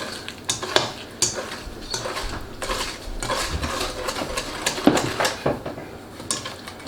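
A spatula scrapes and stirs muffin batter made with eggs, vanilla and buttermilk in a mixing bowl, giving repeated close scrapes and soft knocks in an uneven rhythm, with no talk.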